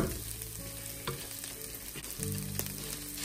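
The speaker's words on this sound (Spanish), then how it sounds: "Vamos a freírlo un poquito." Jasmine rice fries in a pan for a Cantabrian seafood paella, a close, steady sizzle with stirring scrapes and the occasional clink, no voices over it.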